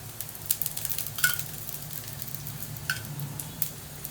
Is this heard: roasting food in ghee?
yes